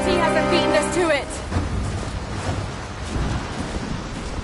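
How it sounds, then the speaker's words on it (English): A thunderstorm with rain rumbles in the Tomb Raider video game, a low steady roar of wind and rain with deep rolling thunder, loud and close, while a voice speaks briefly at the start. "Storm's getting closer."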